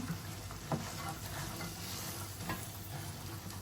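Boiled chickpeas are stirred in a hot pan, a soft continuous sizzle with faint scraping strokes of the spoon, close and steady, with no talking.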